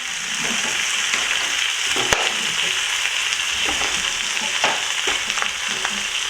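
Browned cowheel and pigtail meat stirred in a pot with potato, sweet potato, green fig and cassava, a steady frying sizzle broken by scattered scraping and knocking of the spoon, close and fairly loud, no speech.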